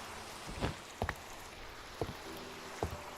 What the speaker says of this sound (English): Go away, rain.